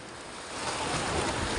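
Sea waves roll onto the shore at Diu, a broad wash of surf that swells louder halfway through, with some wind buffeting the microphone.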